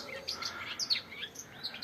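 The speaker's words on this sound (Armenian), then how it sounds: "Ուզում եմ նկարահանել այս անուշ ձայնով ծիտիկին" Firecrackers celebrating India's T20 World Cup win burst in a series of sharp, loud bangs at irregular intervals, each followed by crackling and a fading rumble.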